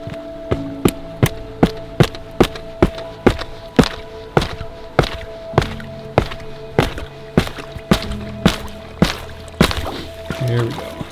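A steady series of sharp cracking thuds, roughly two per second, each one hard and close, with faint trickling water in between.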